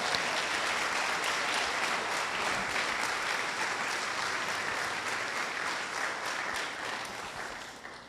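A church congregation at a youth congress applauds steadily, a dense sustained wash of many hands clapping that holds strong throughout and tapers slightly at the end.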